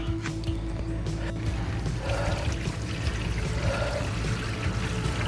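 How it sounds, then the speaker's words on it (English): Sink water pours steadily into an RV tote tank, a continuous gushing trickle with a low hum underneath throughout. "So we'll put a little bit of sink water in and see how that goes."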